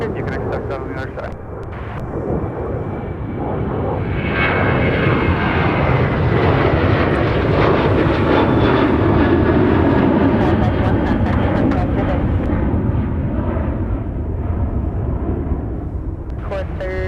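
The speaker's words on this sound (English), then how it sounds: "we have a departing southwest. 737." A departing Southwest Boeing 737 jet takes off at Minneapolis airport, its engine roar swelling loud and broad, holding steady, then slowly easing. A voice talks over it.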